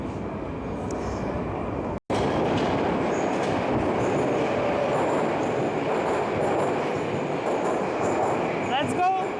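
A Moscow metro train rumbles along with a steady dense roar of wheels on rails, a brief dropout early on, and squealing wheels near the end, heard from inside the car.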